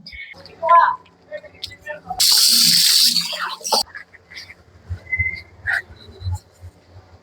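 Tap water gushes into a sink for about a second and a half while someone washes their face, loud and close. Scattered small household sounds and vocal noises come before and after it.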